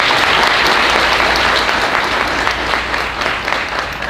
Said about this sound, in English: if you would please also give him a round of applause